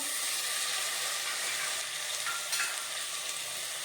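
Capsicum, cauliflower and tomato sauté in hot oil in a pan for pav bhaji, giving a loud, steady sizzle with faint stirring scrapes and brief bursts of crackle.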